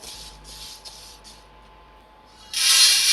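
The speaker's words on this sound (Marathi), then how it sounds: "बघा आवाज किती छान येतो या डाळीमधून" Dry-roasted lentils (dal) being moved after roasting, a few soft rustling, pouring hisses that stop briefly, then a louder continuous rush of grains near the end, heard close with no talk.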